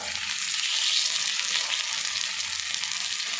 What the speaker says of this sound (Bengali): 3 পিস নাস্তা দিয়ে আমি ফ্রাই করে নিচ্ছি।